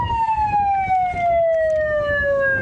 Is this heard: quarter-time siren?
yes